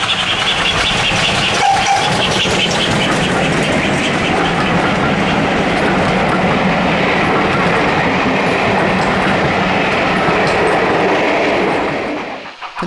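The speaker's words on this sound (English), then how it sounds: "we see Great Western Railways Manor Class 460, number 7828 Audney Manor, coasting downgrade towards Bishop's Lydeard" A GWR Manor Class steam locomotive, 7828, coasts downgrade with a passenger train on the West Somerset Railway, a loud, close, continuous rumble of rolling stock and rhythmic wheel clatter that drops away sharply at the very end.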